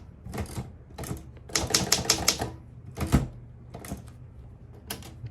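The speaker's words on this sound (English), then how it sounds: "I type some things, and then I go another line and I type some more things" Keys clack on a Royal HHE manual typewriter in irregular bursts, some quick runs and some single strikes, with the carriage giving a sharper thunk partway through; close and clear, no voices.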